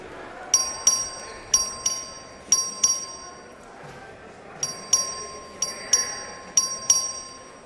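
Voting bell in the Texas House chamber, rung by the clerk in two series of quick, evenly spaced bright chimes with ringing tones between strikes, moderately faint over room ambience.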